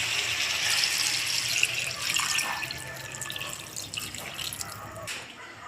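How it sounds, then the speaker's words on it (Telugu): Water poured from a metal pot into a bowl while cauliflower curry is prepared, giving a steady, close splashing rush that runs the whole stretch and eases slightly toward the end. "ఈ చెంబుతో ఒక చెంబు వాటర్ పోసాం"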